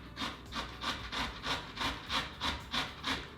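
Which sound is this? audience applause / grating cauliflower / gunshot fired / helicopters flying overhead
grating cauliflower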